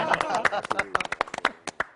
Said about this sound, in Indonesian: kita tepuk tangan buat berempat